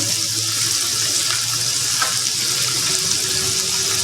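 Chicken pieces sautéing in a pan, a steady bright sizzle of frying that holds evenly from start to finish, close and fairly loud with no talk over it.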